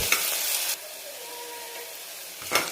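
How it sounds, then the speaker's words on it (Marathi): Onion frying golden in hot oil for mutton curry, a soft steady sizzle with light stirring, bursts of louder scraping at the start and end, no voices. "तेल गरम झाल्यानंतर आपल्याला छान असा कांदा सोनेरी कलरवर परतून घेऊ"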